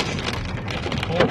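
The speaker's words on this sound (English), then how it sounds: "All this hail, and I didn't get hit by one." Large hail pelting down during a February storm, a dense, continuous clatter of stones striking surfaces, loud and close throughout with no pause.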